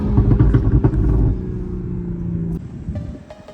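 A 2021 Toyota Supra GR 3.0 with its B58 inline-six drives along in Orlando, Florida, its engine a loud, steady rumble that drops off sharply partway through as it shifts, then settles into a quieter drone.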